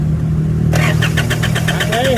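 An Isuzu All New diesel pickup engine with no fuel pressure from the pump cranks over with rapid, evenly spaced pulses from the starter, loud and close, with a low steady hum underneath.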